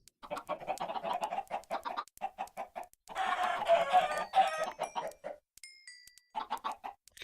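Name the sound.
chickens clucking in video game Agrarian Skies (Minecraft modpack)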